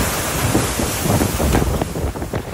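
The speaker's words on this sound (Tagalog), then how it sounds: "Buong araw na malakas ang hangin at ulan sa Kasiguran Aurora dahil sa bagyong Nika" Strong typhoon wind roars and buffets the microphone in loud gusts, with a broad rushing wash of rain, in Kasiguran, Aurora, Philippines.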